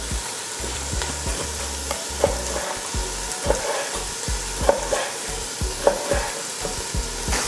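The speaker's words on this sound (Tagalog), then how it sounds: "Yan, so haluin lang natin to. Yan, so naghiwalay na yung sibuyas." Baby back ribs and onions fry in a pan under a continuous sizzle while a utensil stirs them in regular scraping strokes. The strokes are close and fairly loud, with no talking.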